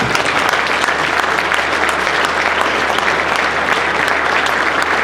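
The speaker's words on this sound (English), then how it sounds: "Please give them a round of applause" A crowd at an air cadet squadron's annual parade gives a loud, sustained round of applause, dense and even clapping throughout with no break.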